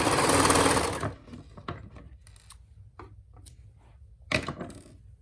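A sewing machine stitching a fabric purse bag cover, one short loud run of stitching followed by quiet handling clicks and a brief second burst, close up with no talk.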